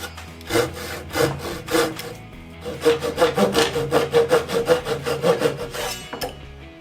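Hand saw cutting wood for a half lap joint, rhythmic rasping strokes, close and loud, a few slow pulls then a faster run of even strokes.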